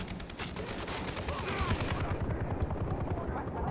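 Rapid automatic turret fire in the video game Far Cry 3, a dense sustained burst of shots rattling continuously throughout with a busy background of battle noise.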